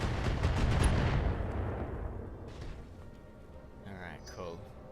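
Heavy weapon fire from mechs in the BattleTech video game, a multiplayer match on the moon, with a dense booming barrage at the start that decays into rumble, then scattered bursts and a voice talking over it.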